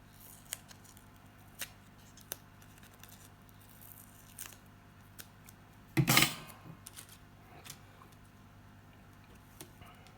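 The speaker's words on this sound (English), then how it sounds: "so I'm just going to cut it up the middle." Scissors cut double-sided foam up the middle, making one close, crunchy snip-and-tear burst. Faint scattered clicks come before and after it in a quiet room.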